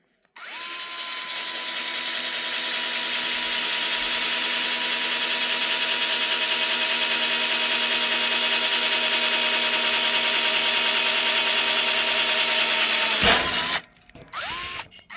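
A cordless screwdriver drills into a pear steadily with a high, even whine for over ten seconds, then spins down and stops with a few short bursts.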